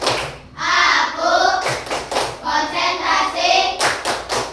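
Children in a primary school classroom clap along to a concentration clapping chant, a few sharp, loud claps standing out against chanted voices.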